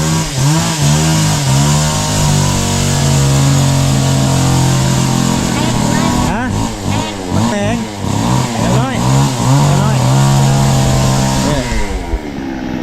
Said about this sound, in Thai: ทางทีมงานเพื่นกำลัง เลื่อยไม้อยู่อาจจะมีเสียงน้องนั้นเนาะ